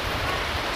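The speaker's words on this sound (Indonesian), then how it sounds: "Oke, air hujan turun." Rain falls as a steady, dense patter and hiss, close and even throughout a brief stretch with no voices.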